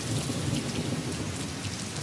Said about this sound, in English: The Sri Lankan monsoon lasts around a month and brings heavy rain and thunderstorms across the island.